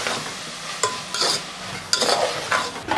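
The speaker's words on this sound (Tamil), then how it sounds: "பாருங்கள், வெங்காயம் வதங்கிட்டே இருக்குது." Onions cook in oil with ginger-garlic paste, turmeric and mint leaves, a soft sizzle broken by a few sharp scraping stirs of a spoon in the pan, no voices.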